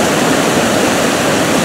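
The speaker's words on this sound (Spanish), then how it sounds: "Cómo está derramando rumbo al río Chubisca" Water pours over the retaining wall of an old city dam swollen by recent rains, a loud, steady broadband roar with no break, close and alone.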